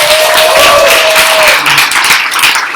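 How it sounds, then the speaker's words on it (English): A live audience at a ward debate held in a cafe gives a round of applause, dense continuous clapping that stays loud throughout, with a faint tone running briefly through it. "Big round of applause for that."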